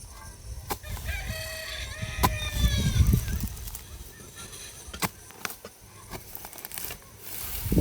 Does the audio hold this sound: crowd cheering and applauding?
no